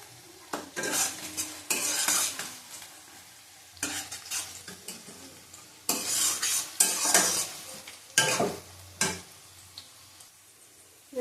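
Spices with Kashmiri chili powder sizzle in a pan for a milk chicken curry as a spoon stirs and scrapes in repeated bursts, with softer frying between strokes.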